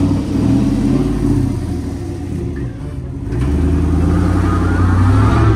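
A monster truck engine rumbles loud and close, with a deep, steady roar. It eases off briefly, then builds again as the throttle is opened.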